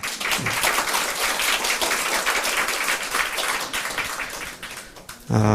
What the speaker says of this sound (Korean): 잠깐 일어나면 박수로 환영하겠습니다